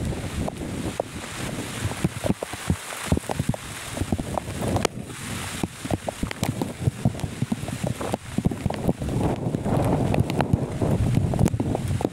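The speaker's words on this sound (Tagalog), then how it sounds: "Malakas din yung hangin." Strong wind during heavy rain over farm fields buffets the microphone in loud, gusty roars, with rushing noise and rain-like patter throughout and no one speaking.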